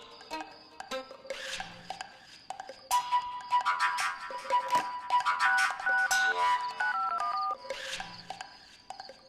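A telephone ringing in a Hindi TV serial scene, a series of repeated electronic ringtone chirps with melodic beeping tones, fairly clear and close, without talk over it.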